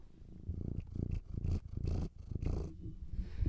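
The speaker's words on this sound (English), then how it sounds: "This cat is still, she wants to be the star of the show." A cat purrs up close in a room, a loud rumbling purr that rises and falls in rhythmic pulses with each breath, continuous and alone.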